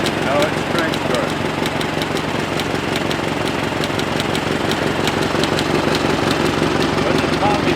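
The four-cylinder engine of a 1913 Regal Underslung car runs at a steady, loping idle after a crank start, with an even mechanical chuff and light knocking that continues unbroken throughout.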